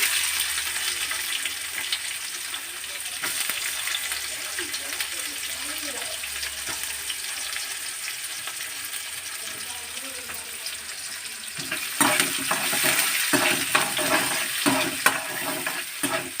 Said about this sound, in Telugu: దినుసులు వేగిపోయాయండి కరివేపాకు వేసాను నెక్స్ట్ ఆనియన్స్ వేసుకున్నాయండి